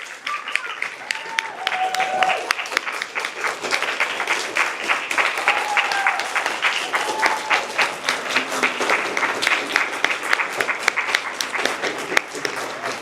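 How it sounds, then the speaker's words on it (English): Sustained applause and standing ovation from a large graduation audience, steady and loud throughout, with faint voices and cheers mixed into the clapping. "give these folks a round of applause and a standing ovation"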